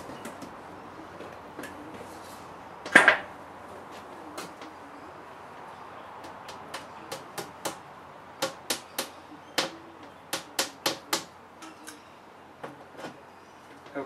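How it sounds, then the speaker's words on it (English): A series of sharp, fairly quiet knocks, like hammer blows on wood, coming in irregular clusters with one louder strike early on, while building a LARP shield. "Helps if you can hammer straight too."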